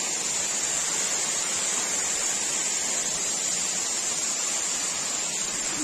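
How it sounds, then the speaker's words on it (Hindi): Jibhi waterfall gives a constant, even rush of falling water, close and unbroken throughout, with no voices over it. "ये है भाई जिब्बी वाटरफॉल"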